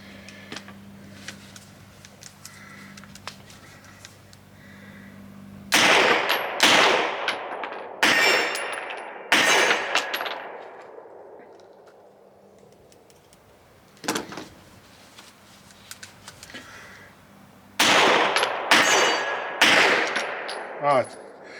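An all-steel gun fired at an outdoor range: loud, sharp single shots ring out close by, spaced irregularly, some in quick pairs and triplets, with quiet gaps between.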